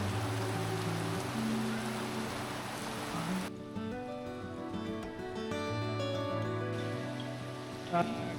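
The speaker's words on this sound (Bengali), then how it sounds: "শুরু হয়ে গেল মুসুলধারে বৃষ্টি" Dense, steady monsoon-style downpour in Dahagram, Bangladesh, roaring continuously, close and loud, with the wash thinning slightly midway then holding strong to the end.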